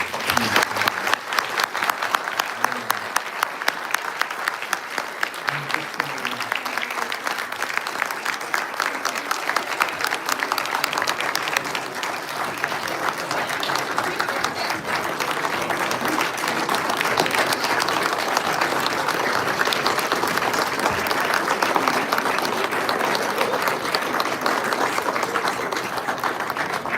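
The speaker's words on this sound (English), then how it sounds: "So, if we have a round of applause for our." A large audience gives a sustained standing ovation to panelists at a Harvard forum on Pakistani democracy, with dense, even applause filling the whole stretch at steady loudness.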